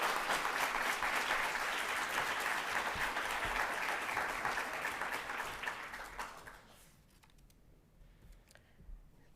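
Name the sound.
audience applause at a graduation celebration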